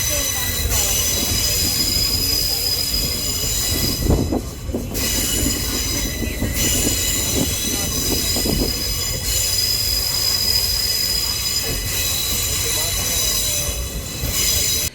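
A passenger train running between Madurai and Rameshwaram, loud and close, with constant rumbling wheels and shrill squealing on the rails throughout, plus occasional clanks and brief dips as it rolls on.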